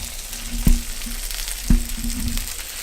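An egg fries in a Blue Diamond pan with a steady, crisp sizzle and two sharp knocks from a utensil, close and clear with no talking.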